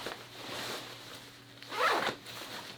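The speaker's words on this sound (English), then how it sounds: "You got that basketball mesh pit zip going on here" The pit zip on a Volcom Brighton pullover is pulled in one quick rasping stroke near the end, after a softer fabric rustle, heard up close with no talk.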